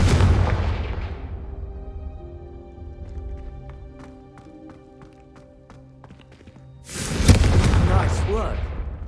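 A Confringo fire spell bursts in Hogwarts Legacy with a loud fiery explosion, fading into a ringing musical tail before a second loud burst near the end.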